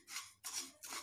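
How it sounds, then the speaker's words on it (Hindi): Black sesame seeds roasting in oil in a hot pan over medium heat, giving three short bursts of soft, hissy crackling spread across about a second. The sound is faint and close, with no talking. "हल्का हल्का चटकना चालू हो गया है।"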